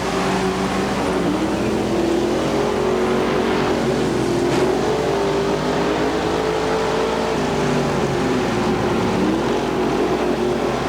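IMCA sprint cars race at speed on a Ventura, California track in 1997, a continuous blended engine whine from several cars holding steady at a moderate distance, with no voices heard.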